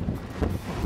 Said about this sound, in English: It's got a good stiff 34 mile an hour wind.